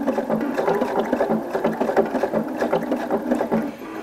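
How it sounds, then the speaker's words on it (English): A sewing machine stitching an applique design onto a fabric pot holder, running in a fast, continuous whirring rhythm, close and fairly loud with no talking. "And just go ahead and begin stitching your design."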